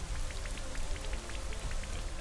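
Rain from the Rain Dance move in a Pokémon video game, a steady patter of light drops over a soft low rumble, moderately loud and alone without speech.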